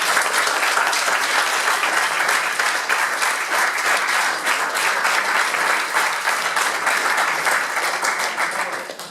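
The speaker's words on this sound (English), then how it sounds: "give them a huge round of applause too" A startup weekend audience gives a dense, sustained round of applause for the coaches, loud and even throughout with no speech over it, fading slightly at the end.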